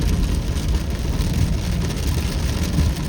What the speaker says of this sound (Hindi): लेकिन बारिश हो रहा है एकदम गजब सा।